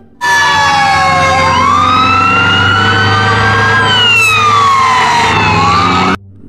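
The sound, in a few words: toy fire engine siren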